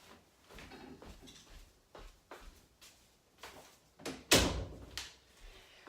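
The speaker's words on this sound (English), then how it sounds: "I'm going to close this door." An indoor door is closed once, a single loud thud near the end following softer shuffling and handling sounds, close by in a quiet room.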